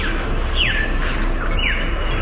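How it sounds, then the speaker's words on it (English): Two sweeping, descending Australian bird calls ring out about a second apart over steady outdoor background noise in a cemetery garden in South Brisbane. "You can hear Australian birds in the background"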